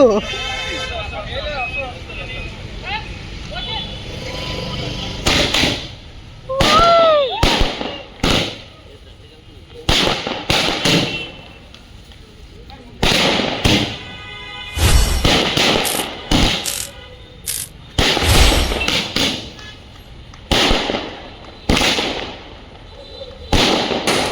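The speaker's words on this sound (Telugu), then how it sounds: "క్రాకర్స్ అయితే మామూలుగా వెళ్ళట్లేవు పైన అవి మస్తు వెళ్తున్నాయి" Firecrackers burst repeatedly and loudly at a film success celebration outside a film lab, sharp bangs in irregular clusters with a whistling rocket and the babble and shouts of a crowd between them.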